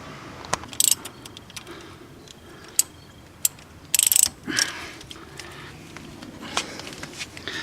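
A ratchet wrench turns the crankshaft during a timing belt job on a Chevrolet Kalos, giving close, sharp clicking bursts separated by pauses, with light metallic handling noises between.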